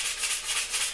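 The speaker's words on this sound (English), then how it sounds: "So I am just gonna take the sandpaper and sand these areas." Sandpaper rubbed by hand across glaze on a custom-moulded motorcycle frame, a close, steady hiss of abrasive strokes pulsing in a quick back-and-forth rhythm.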